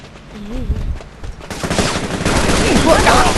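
Rapid automatic gunfire from the online shooter game CrimeCraft bursts in and keeps going loud and dense, with a voice briefly heard beforehand.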